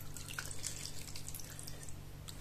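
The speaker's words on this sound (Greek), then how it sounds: "Θα προσθέσω μόλις 100 μιλιλίτρα νερό" Water trickles and splashes steadily into a clay pot holding pork with giant beans, a close, continuous pour of about 100 millilitres with faint dripping and no speech.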